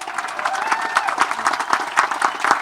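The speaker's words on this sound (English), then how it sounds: "Round of applause for our Vietnam guys." A round of applause at a 2013 ceremony honoring Vietnam veterans: dense, steady clapping from a crowd, with a few louder individual claps standing out and murmured voices mixed in.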